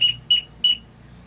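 Three short, sharp teal duck call peeps blown on a 6-in-1 whistle in quick even succession, loud and close, then quiet.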